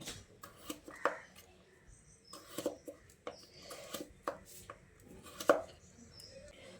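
A knife cuts a potato lengthwise into strips on a board in quiet, irregular chops, each a crisp tap against the board, with small shuffling handling noises between them.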